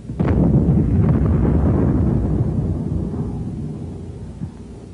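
An 81 mm high-explosive mortar shell with a delay-action fuse bursts in a single sharp blast that trails off into a long rolling rumble fading over several seconds.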